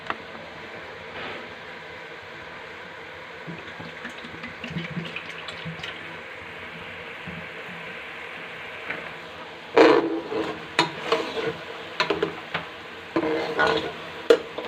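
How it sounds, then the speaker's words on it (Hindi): Oil poured into cooking sugar syrup for petha halwa and stirred, a low simmering bubble, then louder scraping strokes of a spoon in the pot and sizzling bursts in the second half, close and intermittent. "अब इसके अंदर हम थोड़ा सा ऑयल डालेंगे।"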